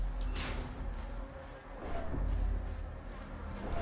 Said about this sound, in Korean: 내 옆에 모기 있는 것 같고